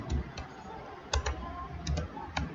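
Typing out a C program on a computer keyboard: scattered, irregular key clicks in short bursts, close and fairly quiet, with no voice.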